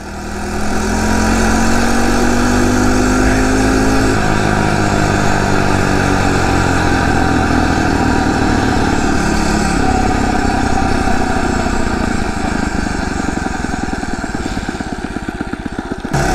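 Small Phatmoto motorized bicycle engine droning loudly and steadily while riding, its pitch rising through the opening seconds and then holding a buzzy two-stroke-like whine to the end, with no talking.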